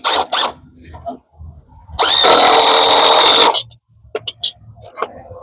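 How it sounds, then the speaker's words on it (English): A power drill drives screws into a wooden wall frame for an off-grid tiny house, one loud sustained whirring burst of about a second and a half, with shorter clicks and handling noise around it. "And we're on the last 6 screws."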